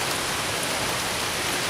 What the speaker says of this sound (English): I don't think it's going to rain long.